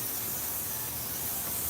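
Carb cleaner sprayed into an upturned scooter carburetor, a steady close hissing spray running continuously for under two seconds with no talk.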